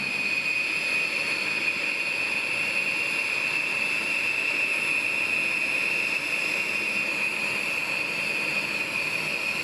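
Steady, loud jet engine roar from B-1 bomber aircraft, a continuous unbroken drone with a prominent whine and no talk.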